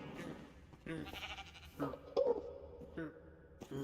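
A sheep in the video game Create Ultimate Selection 2 gives a short, nasal bleat midway, amid faint clattering game sounds and quiet background noise.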